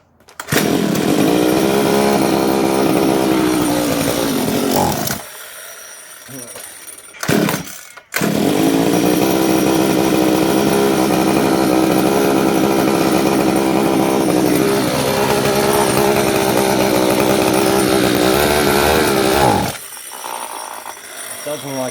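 A repaired small petrol motor runs rich on fuel, buzzing loudly and steadily with throttle blips as the revs rise and sag, cutting out briefly twice and dropping off near the end.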